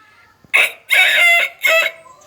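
A man imitates a rooster crowing with his voice, giving three bursts with a short rising first call and two longer sustained ones, loud and close, with nothing else behind them.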